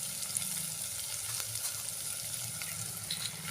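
Onions and a spice paste ground in a mortar frying in a pan, a steady close crackling sizzle that holds evenly throughout with no talk.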